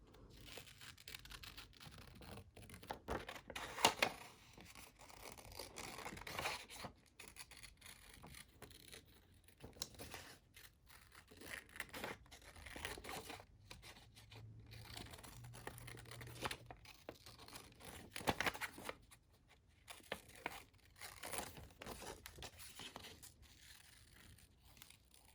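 Paper pages being cut with scissors to make collage details, heard as quiet, close, irregular snips and crinkles over a long stretch, with no talking.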